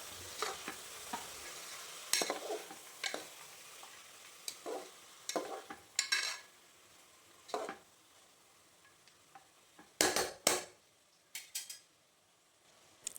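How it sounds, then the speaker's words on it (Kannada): Potatoes and soaked peas fry in a pan for vegetable pulao, stirred with a spatula in repeated scraping strokes over a low, steady sizzle; no talking. "3/4 ಕಪ್ ಪೊಟ್ಯಾಟೊ, ನೆನೆಸಿಟ್ಟ 1 ಕಪ್ ಬಟಾಣಿ ಹಾಕಿ ಎಲ್ಲ ಒಮ್ಮೆ ಫ್ರೈ ಮಾಡುವ"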